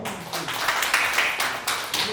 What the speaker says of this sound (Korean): 다 함께 큰 박수로 마무리 주시기 바랍니다